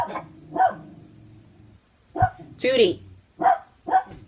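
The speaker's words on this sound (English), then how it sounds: "You're not even coming out to see what you're barking at." A small dog barks indoors in several sharp, separate outbursts, near and fairly loud, while someone speaks between and over the barks.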